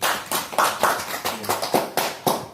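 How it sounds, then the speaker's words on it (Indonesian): Several people in a classroom give a short round of applause, a steady run of close hand claps at an even pace, with no talk over it. "Tepuk tangan untuk Bapak Delta dulu."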